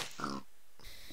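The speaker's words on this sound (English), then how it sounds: "Yes, oink to you, Mr. Piggy." A pig in the Minecraft video game gives a short, close grunting oink, heard alone in the game world.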